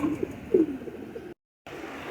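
Deobandi pigeons coo softly in short throaty phrases, fairly close, over a low background hum, with a brief gap of silence near the end.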